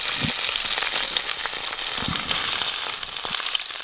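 Steady, loud sizzling of breaded freshly caught fish frying in a pan, a dense hiss throughout with a few soft low thumps, no voices.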